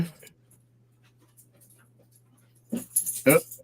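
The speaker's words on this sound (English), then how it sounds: "Uh-oh, there goes the dog." A dog whimpers faintly, then pants and snuffles in a few short, breathy bursts close by, over a low steady hum.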